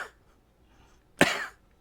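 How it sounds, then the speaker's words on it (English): A single harsh, close cough bursts out once in a quiet room, preceded by a faint breathy sound. "sorry for that cough"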